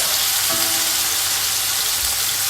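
Chicken fries in oil in a pot at home, giving a steady, close hiss of sizzling with a few faint clinks underneath.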